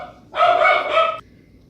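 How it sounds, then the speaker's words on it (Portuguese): A single drawn-out dog bark or yelp, close and fairly loud, lasting under a second against a quiet indoor background. "o cachorro parou de latir"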